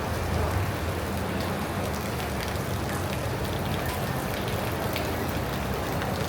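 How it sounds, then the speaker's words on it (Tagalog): Heavy rain pours down on a market in a dense, unbroken roar, loud and steady, with the patter of drops on surfaces and no talking. "Lakas ng ulan, no?"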